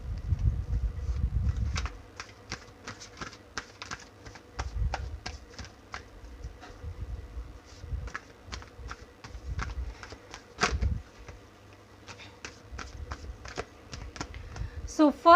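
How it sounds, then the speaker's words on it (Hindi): Tarot cards shuffled by hand in a series of quick, crisp riffling taps and flicks, close and fairly quiet, with breathy low rustles between them. "चलिए कार्ड को शफल करते हैं।"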